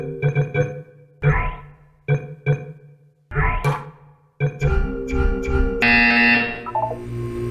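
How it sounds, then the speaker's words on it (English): Buzzer tones in the video game Portal 2, several short loud electronic blasts in quick succession, then a longer, busier stretch of layered game sound. "When you hear the buzzer, look up at the ceiling."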